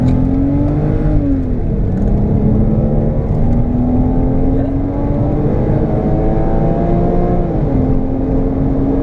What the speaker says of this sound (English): I'm going to give it a bit of acceleration around this bend